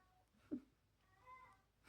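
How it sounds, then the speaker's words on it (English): A cat gives a short, faint meow indoors, a single brief call amid quiet room sound. "Cat's meowing."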